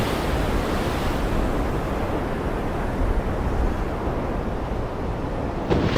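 Large, aggressive ocean waves crash and surge during a storm, a loud, continuous roar of surf with gusting wind and no voices.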